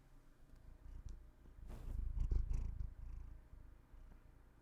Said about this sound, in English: He's purring so loudly.